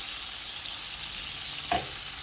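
Butter and oil heating together in a pan over medium-low heat, giving a steady soft sizzle with one brief louder crackle near the end.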